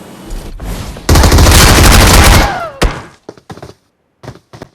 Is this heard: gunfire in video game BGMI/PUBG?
yes